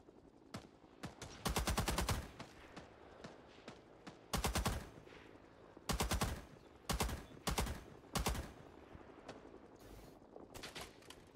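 Machine gun fire in the video game Rising Storm 2: Vietnam, loud rattling bursts of rapid automatic shots separated by short pauses, with scattered single shots and distant firing between them, no voices.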